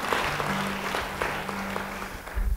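Church congregation clapping during a sermon, a steady wash of applause from many hands filling the room, with a low sustained tone underneath and no speech.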